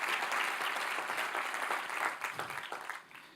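A church congregation claps together in sustained, dense applause that tapers off toward the end.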